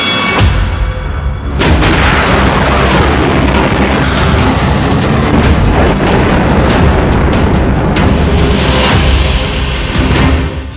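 A Jericho missile launch and explosion: a sudden heavy boom followed by a sustained loud roaring blast that fills the whole span without letting up.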